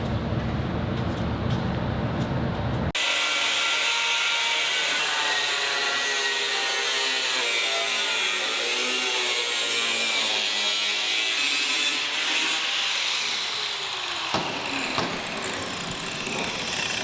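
A power tool cuts the edge off a body part on a wide-body, rear-wheel-drive V8 Mk3 Golf. The cutting starts abruptly, holds a harsh, continuous grinding whine for about eleven seconds, then cuts off into quieter noise.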